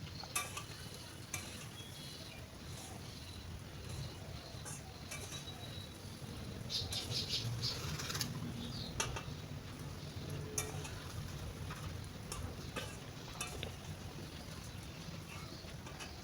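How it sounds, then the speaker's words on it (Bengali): Raw rice grains frying in a pan over a very low flame for Bengali basanti pulao, giving a faint, steady sizzle with occasional soft stirring scrapes and no talking. "এবার এই চালটাকে 5-7 মিনিট একদম লো ফ্লেমে ভাজতে হবে।"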